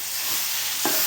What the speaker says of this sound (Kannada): ಇದನ್ನು ಕೂಡ ಆಲೂಗಡ್ಡೆನ ಎಣ್ಣೆ ಬಿಡುವವರೆಗೂ ಹುರ್ಕೋಬೇಕು ರೀ